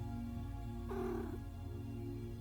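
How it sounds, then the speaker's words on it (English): A cat in a video game gives a short meow or purr as it is petted, a brief burst rising over steady game music and ambience, heard alone without talk. "You pet the cat."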